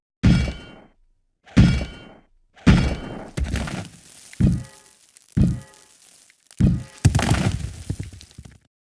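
Iron pipe in Resident Evil 3: Nemesis striking and clanging in a string of about seven heavy, hollow thunks with cracking edges, evenly spaced and loud, separated by short silences.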